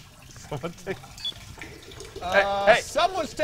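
A person urinating is picked up by a streamer's microphone: a trickling stream of liquid into water grows louder and splashier toward the end, with faint speech in the background.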